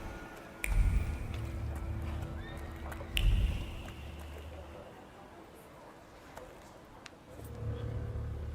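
Horse hooves clop in short bursts over a quiet ambient background in the video game The Thaumaturge, with brief pauses between stretches of riding.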